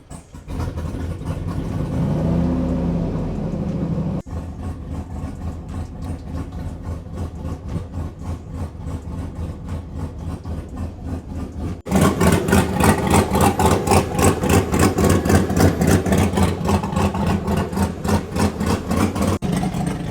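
A turbocharged 5.3 Chevrolet Silverado truck engine cranks and fires, then settles into a steady rhythmic idle that steps up louder partway through and holds, close and without talking.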